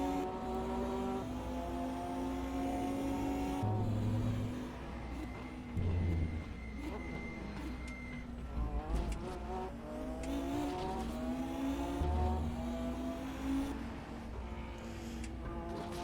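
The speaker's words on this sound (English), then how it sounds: "It's a beautiful sounding vehicle as well." GT1 and GT2 race cars at Laguna Seca in the RaceRoom racing game roar through repeated upshifts and downshifts, with engine pitch climbing and dropping through corners and brief bursts of tire squeal.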